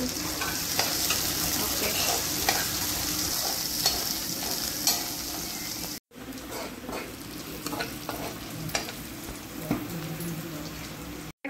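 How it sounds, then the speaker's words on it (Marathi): Chopped tomatoes sautéed for homemade pasta, stirred in a pan with a steady close sizzle and frequent spoon scrapes and clicks, continuous except for a brief break. "टमाटर टाकायचं आहे आणि याला सॉटे करू।"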